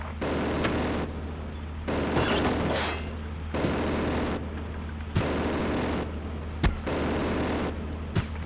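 Repeated heavy booms in the WW2 strategy game Steel Division, blasts of artillery and explosions arriving every second or two over a steady low rumble, with a couple of sharp cracks.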